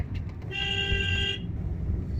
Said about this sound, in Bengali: এই হর্ন দে, হর্ন দে।